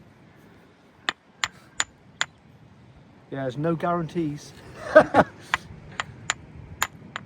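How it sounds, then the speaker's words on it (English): Small hammer striking rock during fossil hunting: about eight sharp, crisp taps, some spaced alone and some around a stretch where people talk nearby. "Shall I use a small hammer?"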